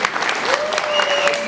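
Wedding guests applaud in a brief, dense burst of clapping, loud and close, with a thin tone running underneath.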